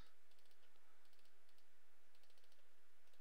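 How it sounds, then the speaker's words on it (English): A new, noisy computer mouse clicks in quick, faint bursts close to the microphone during a Galacticraft game session, with a low hum underneath. "if you guys can hear me clicking, I do apologise. I have a new mouse and it sucks"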